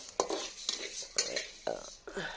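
Garlic and cumin seeds roast in a pan, a ladle stirring them in five or six rhythmic scraping strokes over a soft background hiss, close and fairly loud, with no talking.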